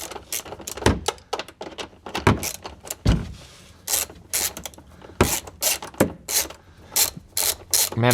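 Ratchet on a long extension with a swivel turning a fastener on a 2022 Jeep Wrangler, bursts of sharp rapid clicking repeated in short strokes with brief pauses, close by.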